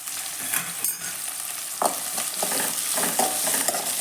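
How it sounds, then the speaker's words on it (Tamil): Onions, ginger and garlic sauté in a pan for paneer butter masala, giving a steady close sizzle broken by a few louder scraping stirs, with no voices. "வெங்காயம் போட்டதுக்கப்புறம் நல்லா வதங்கினதுக்கப்புறம் இஞ்சி பூண்டு எல்லாம் போட்டு வதக்கணும்"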